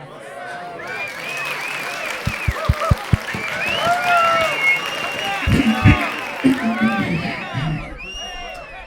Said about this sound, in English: I'm gonna like put in crowd sounds here